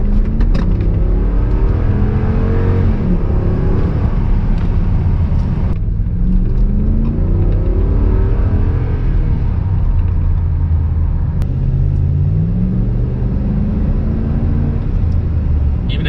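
A stock RAM 5.7L HEMI truck engine, heard from inside the cab, rumbles steadily and loudly throughout, with rising and falling engine tones as it revs.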